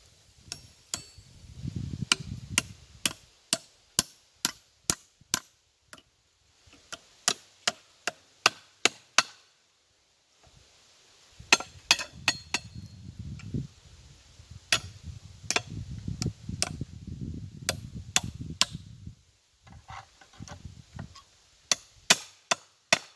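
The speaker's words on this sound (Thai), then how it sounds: "ก็จะใช้ตะปูตอกนัดไว้" Sharp, evenly spaced hammer blows drive nails into wood, coming in quick runs with short pauses, over a low background rumble.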